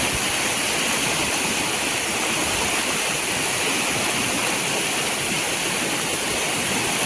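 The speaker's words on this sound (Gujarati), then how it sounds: "જો પાણી પાણી પાણી છે ચારી કોર." Heavy rain pours down in a village in Gujarat, with runoff water rushing and streaming on every side; a steady, loud, unbroken roar of flowing water and downpour fills the scene, with no voices.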